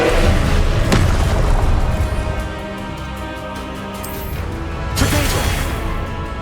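Confringo fire spells exploding in the Hogwarts Legacy video game, with booming blasts near the start and again around five seconds over a dense, rumbling game soundscape.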